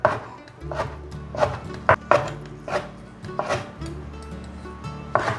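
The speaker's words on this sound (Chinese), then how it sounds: "把香菇切成条状" A knife slices soaked, softened shiitake mushrooms into strips on a cutting board, giving a steady run of crisp, close chopping knocks at an even rhythm with a few sharper thuds, and no talking.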